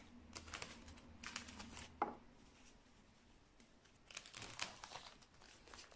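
Adhesive tape handled while fixing a cover over melon seedlings: faint, close crinkling and short tearing rustles in several small bursts, with one sharp snap, and no talk.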